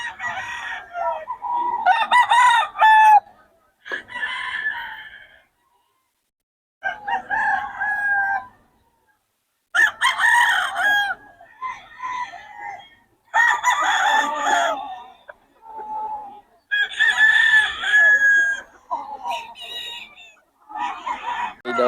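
Several roosters on a farm crow in turn, loud, drawn-out calls with short pauses between, some overlapping, close and clear with quiet gaps.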